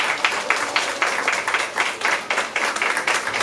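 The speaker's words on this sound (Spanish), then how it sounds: "¡Aplausos, por favor! ¡Aplausos!" A crowd at a business leadership awards event claps and applauds steadily, dense hand claps with rhythmic pulses, fairly close and continuous throughout.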